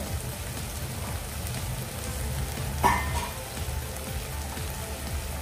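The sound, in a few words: spice masala frying in oil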